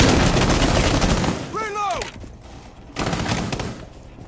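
Gunfire punching through a wall during an esports video game match: dense, rapid bursts of shots up front, a brief whistling tone, then another short volley a second later, fairly loud and close.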